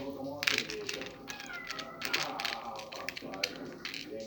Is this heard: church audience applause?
no